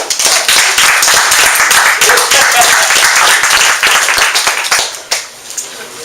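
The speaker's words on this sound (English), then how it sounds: "Why don't we give all a loud clap, a hand clap to Susie Bowles." Loud hand clapping from a small group gathered at a house for a leadership meeting, close and crisp with distinct individual claps, fading near the end as voices begin to come in.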